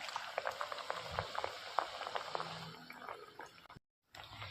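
Shewali flower leaf pakora sizzling in hot oil, a steady bubbling hiss with scattered pops and crackles, close and moderately loud, briefly cutting out near the end before resuming.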